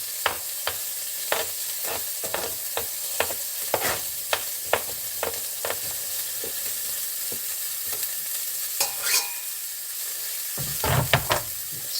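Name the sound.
garlic and asparagus sizzling in a frying pan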